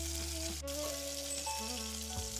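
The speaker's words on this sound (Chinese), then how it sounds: "在锅里煸炒几下，让五花肉煎得更焦些" Pork belly pieces searing and stir-fried in a hot wok, a steady close sizzle with a tonal background hum and occasional scraping, alone without talk.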